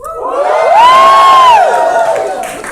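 A crowd cheers and whoops loudly, with one voice rising into a sustained high shout over the noisy mass.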